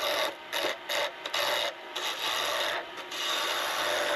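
A wooden pen barrel is trimmed down with a tool, making a loud, continuous rasping, filing scrape close up, broken by a few short pauses and with no talking.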